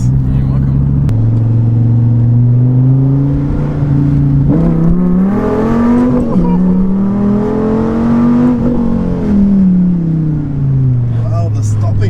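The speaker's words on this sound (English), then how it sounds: "I was shocked by the GTS-R's acceleration" Dodge Viper GTS-R accelerating hard through the gears on a drive in Monaco, its loud engine note rising and dipping with each shift from inside the car, steady and close throughout.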